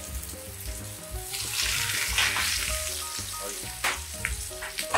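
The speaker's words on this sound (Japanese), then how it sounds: "じゃあ温まったんで焼いていきたいと思います。" A breaded Wiener schnitzel cutlet frying in a preheated pan, giving a loud, continuous crackling sizzle that swells after it is laid in, with no speech over it.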